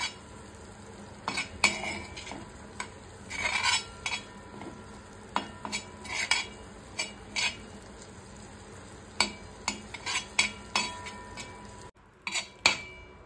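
Boiled eggs being mixed into masala in a pan, a spoon scraping and clinking against the metal in an uneven rhythm of sharp taps over a soft background sizzle.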